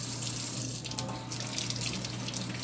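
Tap water runs steadily into a sink while hands are washed, a continuous close splashing rush with no talk.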